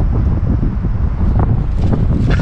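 Strong wind blows outdoors in remote mountains, a loud, continuous rumbling buffet that dominates throughout, with faint crackling now and then.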